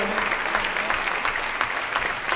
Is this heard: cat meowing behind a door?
no